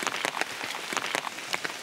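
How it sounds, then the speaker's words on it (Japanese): Heavy rain falling outdoors, a dense patter of drops with irregular sharper splashes, fairly close and steady, with no talking. "いやしかし雨も強くなってきたね。"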